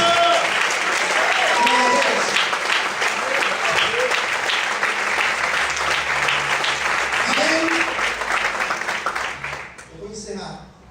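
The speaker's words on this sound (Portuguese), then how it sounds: "Todos podem aplaudir e exaltar a Senhor nessa noite." A large church congregation applauds steadily and loudly for several seconds, with voices mixed in, before the clapping fades out near the end.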